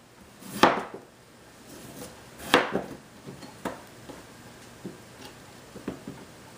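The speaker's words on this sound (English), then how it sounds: "Let's get our potatoes sliced up." A knife slices through potatoes on a board during home cooking, giving a few sharp, close cuts spaced a second or two apart, with fainter taps in between.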